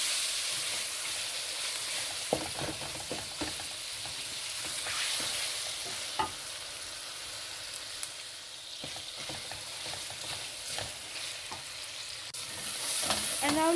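A tomato and chili mix with coriander powder sizzles and fries in a pan, with a continuous hiss and repeated scraping clicks of a spoon stirring at an uneven rhythm, close and fairly loud.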